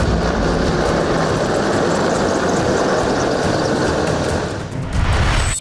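Four Rudra attack helicopters fly past in diamond formation at a Republic Day parade, a loud, steady roar of rotors and engines that persists throughout, then briefly dips before surging again.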